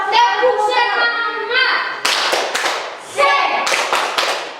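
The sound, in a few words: class doing rhythmic 'tepuk semangat' clapping cheer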